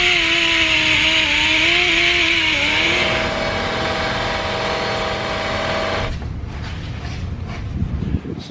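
Wire brush scrubbing a freshly welded steel exhaust pipe for a custom V8 exhaust on an MGB GT, a loud continuous whirring grind with wavering pitch that stops abruptly, followed by quieter scraping and clatter.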